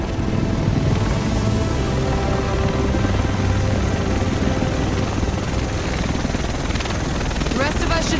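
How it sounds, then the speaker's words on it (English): A helicopter arrives in The Division over Manhattan, its rotor thudding loud and continuous throughout while voices talk over it. "The rest of us should be in this chopper."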